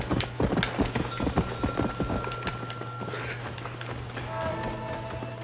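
Rhythmic clip-clop of horse hooves trotting in the Red Dead Redemption video game, a steady run of close, loud hoofbeats over a constant low hum, with faint tonal game sounds toward the end.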